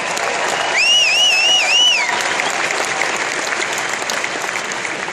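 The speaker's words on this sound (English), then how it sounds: "I think first time in 30 years is worth some applause" A large crowd at the Mr. Olympia bodybuilding competition applauds in a steady, dense roar throughout, with a high whistle-like tone rising and falling near the start.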